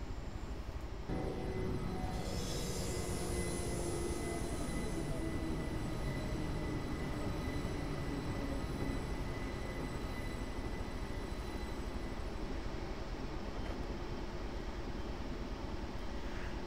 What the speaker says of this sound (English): Ooh, that train's moving quite fast.